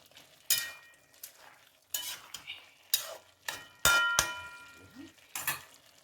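Spoon stirring milk into bottle gourd curry in a metal pan, a run of separate scraping strokes and light clanks against the pan, moderately quiet and with no voices.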